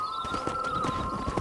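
A horse in Red Dead Redemption gives a sustained neigh over a rapid clip-clop of hooves, close and fairly loud throughout.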